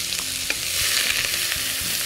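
Onion sautéing in olive oil in a pan, a continuous bright sizzle with a few soft stirring clicks, steady and close for a brief moment without speech.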